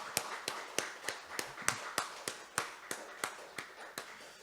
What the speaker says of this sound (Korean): 주님께 영광의 박수를 드립니다.